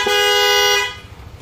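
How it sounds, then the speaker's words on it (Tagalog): Stock car horn of an Opel Corsa, a single loud steady honk lasting under a second, then cut off to near silence. "Busina niya."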